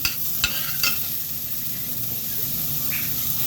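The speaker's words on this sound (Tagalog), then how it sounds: "Next, halo-haluin. Haluin." Crabs and onions are stirred in a hot pan, a steady sizzle running throughout with a few sharp scrapes of the spoon near the start.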